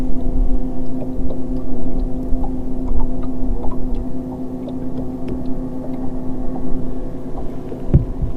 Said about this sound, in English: Boy, that's a loud motor, ain't it?